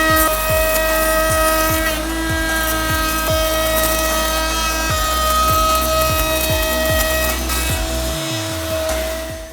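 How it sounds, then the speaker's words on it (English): A router on a router table cuts a 3/4 inch dado into a wooden frame for an axe throwing target, a loud steady motor whine with repeated rhythmic cutting passes and a brief dip near the end. "We'll do that on the router table."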